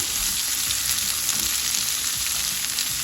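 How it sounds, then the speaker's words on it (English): A white onion sears in a hot pan, giving a steady, even sizzle and frying hiss up close, with no talking. "I have one onion, and I'm using white onion. Let me just sear it one more time."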